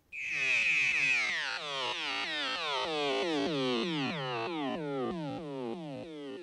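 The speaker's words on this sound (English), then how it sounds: "It plays various tones." Electronic tones from on-screen buttons in a Noah's Ark game: a steady high pitch at first, then a run of descending, chirping synthetic notes repeating in quick, regular pulses, loud and alone without talk.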